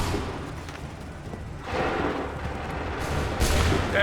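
Volley of musket fire from soldiers in Assassin's Creed 3, heard as broad rumbling blasts swelling in at mid-clip and again near the end over a continuous noisy battlefield background.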